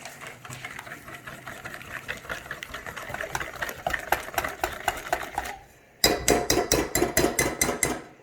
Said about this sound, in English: we're just going to whisk it up